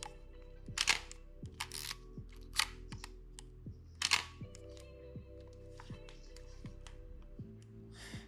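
A Minolta XG-M film camera shutter is released again and again at close range, each crisp snap followed by a brief mechanical rattle, quiet with nothing else going on.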